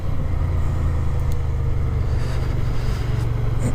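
Suzuki Gladius motorcycle engine on a winding mountain road from Arona to Mt. Teide in Tenerife, a steady close engine drone with rushing wind, holding even throughout.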